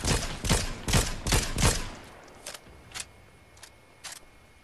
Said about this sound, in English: No, I just shot at someone.